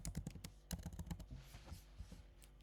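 Rapid, irregular typing on a computer keyboard, close and quiet, with bursts of clicking keystrokes that thin out toward the end.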